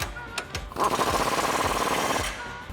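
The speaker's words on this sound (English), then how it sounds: "what we can do is take our 21mm socket and tighten that back up." Rapid rattling impact-wrench burst tightens a flag nut with a 21mm socket on a Jeep Wrangler JL, running steadily for about a second and a half after a couple of short clicks.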